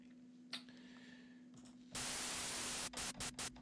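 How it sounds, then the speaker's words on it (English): A noise oscillator riser built in the Serum synth: bursts of white-noise hiss swell in, then a loud sustained noise wash takes over before chopping into rapid on-off gated pulses, all over a steady low hum. "Let's do a riser. Let's put a noise oscillator here."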